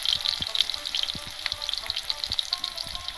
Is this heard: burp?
no